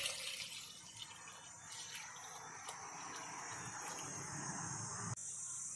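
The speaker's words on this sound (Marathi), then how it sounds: "त्याच्यात 1 लिटर असं पाणी ओतूया." About a litre of water pours into a pot of sautéed goat trotters with turmeric, a soft, steady gushing and splashing that runs continuously and stays faint.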